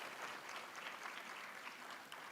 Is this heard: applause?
yes